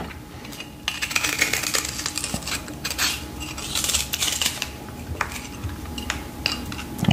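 Chicken tenders being sliced on a board with a knife in a home kitchen, giving irregular close clicks and scrapes of blade against plate or board, with clinking utensils and no talking.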